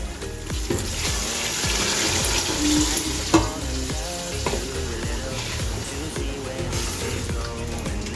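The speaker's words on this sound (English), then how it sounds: "At this point, I'm going to pour the meat water." Meat stock poured into a pot of Nigerian party jollof rice on the stove, a steady wet sizzle and liquid rush with clinks of a spoon against the pot, close and continuous with no talking.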